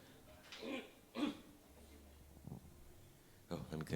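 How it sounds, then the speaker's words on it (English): A few short throat clearings and rough coughing sounds close up, spaced apart with quiet pauses between them. "let me clear my throat a bit."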